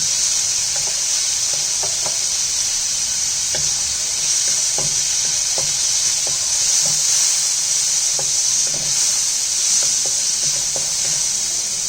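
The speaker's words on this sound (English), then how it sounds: "So the wok is hot enough. We're going to add the minced garlic. I'm going to add the green chili." Minced garlic and green chili fry in a hot wok for Indian-style chilli chicken, a continuous close bright sizzle with intermittent crackling pops and occasional stirring, no talking.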